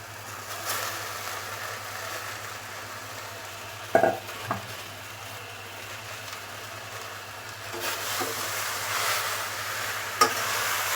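Jute leaves with boiled jackfruit seeds fry uncovered in an open pan, a constant gentle sizzle punctuated by occasional clanks and scrapes of a stirring spoon.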